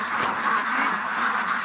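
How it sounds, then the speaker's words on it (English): A flock of ducks near a swamp quacks in alarm, a steady, fairly loud, jumbled clamour of overlapping calls lasting the whole stretch with no pauses. "The ducks are losing it here."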